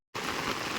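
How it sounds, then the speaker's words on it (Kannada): Heavy rain starts abruptly after a brief silence, a dense, even hiss of downpour on a road that stays loud and unbroken. "ಜೋರು ಮಳೆ ಬರ್ತಾ ಉಂಟು"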